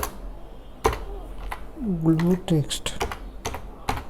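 Keystrokes on a computer keyboard tap out a short burst of text, a few scattered clicks between brief spoken words, close and fairly quiet.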